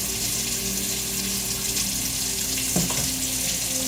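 Tap water running to rinse dish soap off a tinted lens: a steady, close hiss of flowing water at the sink, with a brief clatter near the end.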